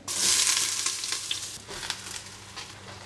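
Eggplant cubes tipped into hot olive oil in a pot give a close, steady sizzle with a burst at first and scattered crackles as the pieces settle.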